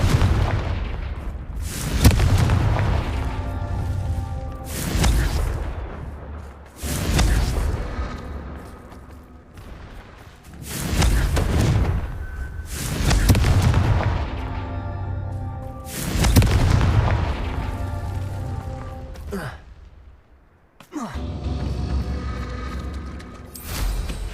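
Repeated Confringo fire spell blasts in Hogwarts Legacy boom out one after another, about seven heavy explosive bursts every few seconds, each with a rumbling tail, loud and with no talking.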